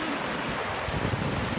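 Big ocean waves roll and wash in a continuous broad surf roar, close and fairly loud, with some wind buffeting the microphone.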